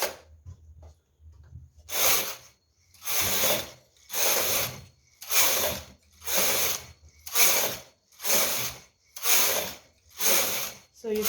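A Brother knitting machine knits a two-colour plating pattern, its carriage making about nine evenly spaced rasping, ratcheting passes at close range with brief quiet gaps between strokes.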